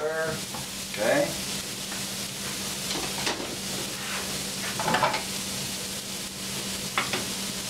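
Garlic, shallots and prosciutto sauté in a pan with a steady close sizzle and occasional stirring scrapes, while a person speaks over the cooking at intervals.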